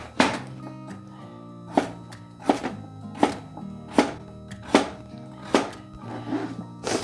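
A knife chops sweet potato on a cutting board in regular, sharp, close thunks about every three-quarters of a second, over a steady low background hum.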